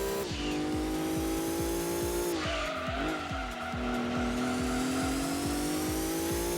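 A race car's engine in Gran Turismo 2 drones steadily at high revs, its tires squealing through a corner, loud and continuous with no talk.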